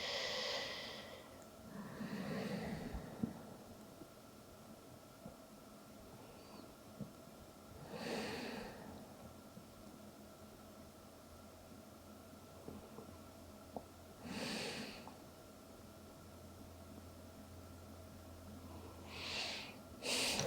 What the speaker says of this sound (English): Couple more breaths, smooth and steady